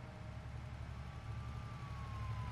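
Fire engine siren in a farming video game, a steady wailing tone rising slowly over a constant low engine rumble, moderately loud with no talk.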